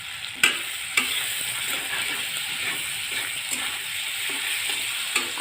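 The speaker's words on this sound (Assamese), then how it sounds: "আৰু এইখিনি এতিয়া ফ্ৰাই কৰি ল'ম।" Ingredients for drumstick curry with white mustard frying in a pan, a continuous bright sizzle punctuated by a few sharp utensil taps and scrapes, close and steady with no speech.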